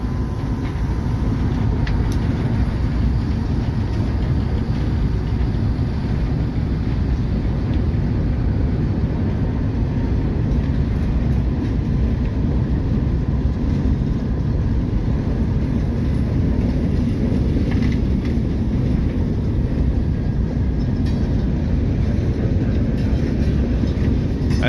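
A train rolls along a railroad track in one continuous loud, low rumble that holds steady for the whole stretch, with no break or fade.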